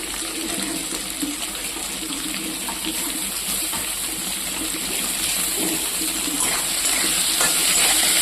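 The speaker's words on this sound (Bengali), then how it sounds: "তেল দিয়ে আলু আর বেগুনটা ভেজে নেবো" Potato and eggplant pieces fry in oil with a steady, even sizzle close to the pan throughout, with no talk.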